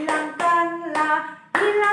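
Children's hands clap together in a worship song, with four strong bursts of clapping against bright sung tones, loud and close.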